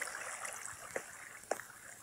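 Flowing water in the Minecraft video game makes a quiet, steady rushing wash, broken by two faint clicks, with no voices.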